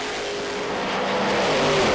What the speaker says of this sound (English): Bobby with a huge nitrous engine on board now in the Willis. Nick with the twin turbo power